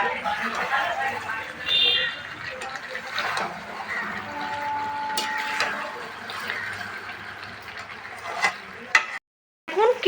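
A curry frying in oil, the masala cooked until the oil separates, sizzles and hisses steadily under a stirring spoon, with talk over it and a brief dropout near the end.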